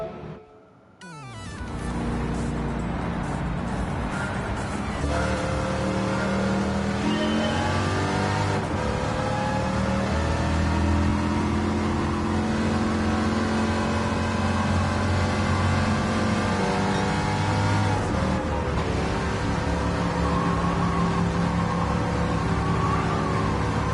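A race car engine in Gran Turismo 7 drones loud and steady around an oval track, holding a high sustained note with slight pitch swells as it rises through the revs.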